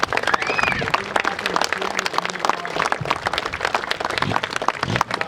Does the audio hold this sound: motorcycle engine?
no